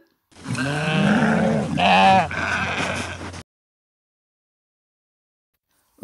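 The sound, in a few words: lambs bleating, children's story sound effect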